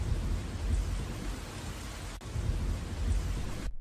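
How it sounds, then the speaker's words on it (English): A strong wind-driven rainstorm with heavy hail pours down in a steady, dense roar, with low rumbling throughout and a brief dip near the middle before cutting off abruptly at the end. "a strong wind began to blow, and along with the rain, very large hailstones"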